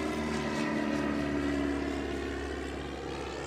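A vintage Normandy-landings propeller airplane drones steadily overhead, its engine loud and constant throughout with a low rumbling hum.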